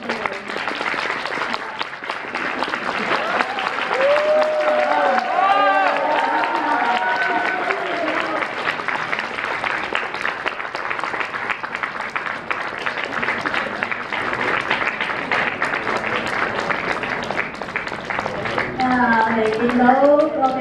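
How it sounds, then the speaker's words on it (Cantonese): Wedding guests applauding during the unveiling of the bride, a dense sustained crowd clapping that continues throughout, with cheering voices and an announcer talking over it. "咁大家咧開始俾掌聲，"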